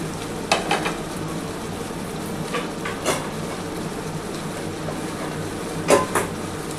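Diced onions drop into hot oil in a frying pan with green chilies for a catla fish curry, setting off a steady close sizzle with a few sharper crackling bursts.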